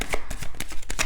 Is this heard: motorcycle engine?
no